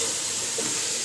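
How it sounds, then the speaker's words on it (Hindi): Chicken with whole spices frying over a high flame for Hyderabadi akhni biryani, a loud, steady, dense hiss that carries on without a break, with no voices. "अब डाल के इसको हाई फ्लेम पे अच्छी तरह से भून लीजिए।"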